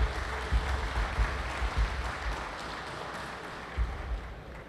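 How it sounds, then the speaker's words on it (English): Moderate applause from an audience at a prison Christmas program rolls on steadily, somewhat distant and diffuse, with a few louder thumps scattered through it. "And this is what you should give yourself a round of applause for."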